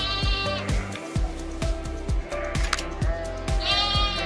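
Several lambs bleat repeatedly at close range in a livestock pen during vaccination, cries overlapping in an uneven rhythm over steady background noise, with no talk.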